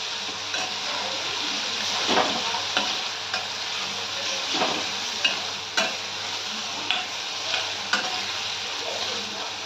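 Prawns fry with asafoetida in a pan, giving a steady close sizzle and hiss, with a utensil stirring and scraping in a few sharp clicks against the metal.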